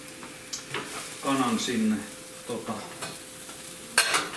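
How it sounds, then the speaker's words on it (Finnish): Onions and chicken fry in butter in a pan, a steady soft sizzle with scraping stirs and occasional clatters of a utensil, close and moderately loud. "Mä freesaan noin sipulit siinä ja heitän välittömästi kanan sinne."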